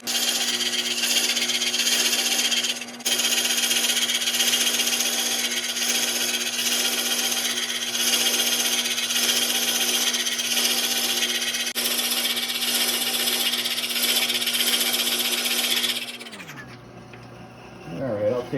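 A woodturning lathe spins at its lowest belt speed of 214 RPM while a tool hogs material off a cracked cherry sugar bowl, a steady loud whirring and scraping drone that runs continuously before winding down abruptly near the end.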